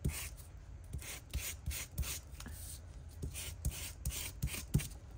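Quick rhythmic scraping strokes of sandpaper distressing a playing card's edge, close and fairly quiet, repeating in short irregular bursts.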